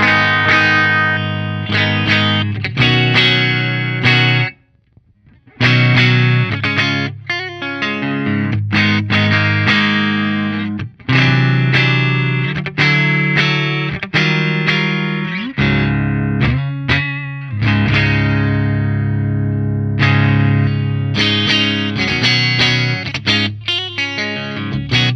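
A PRS S2 Vela semi-hollow electric guitar in antique white played dry with no reverb, ringing chords and picked phrases with brief silent gaps between them. It is loud, close and alone, with no talk.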